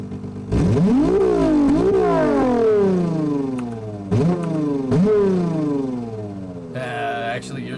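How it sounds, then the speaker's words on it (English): An engine, compared to an inline six, revs repeatedly, its pitch sweeping up and down in several loud rising-and-falling surges, with a short burst of other noise near the end. "Your engine should be sounding somewhat like this."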